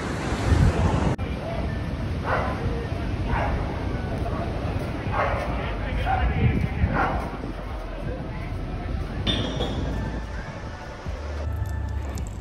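Choppy sea waves and wind at a busy beach in Las Palmas de Gran Canaria, a rough surging wash with gusty microphone buffeting and a dog barking a few times amid the noise.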